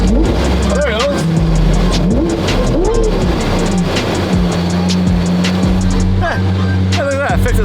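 A McLaren 720 GTR with a newly built engine runs hard on a dyno, its steady loud drone broken by rev-limiter bounces and automatic upshifts, with voices talking over the engine throughout.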